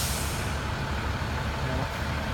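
Heavy city bus or truck rumbling past on a street, a steady loud low engine roar with broadband road noise throughout, close by, no talk.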